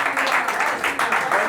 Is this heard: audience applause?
yes